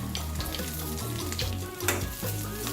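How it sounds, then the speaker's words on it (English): Garlic, red bird's eye chilies, onions and curry leaves fry in hot oil for a dal curry, giving a continuous close crackling sizzle with bursts of stirring. "Stir the frying ingredients together until the garlic turns a light brown and is fragrant"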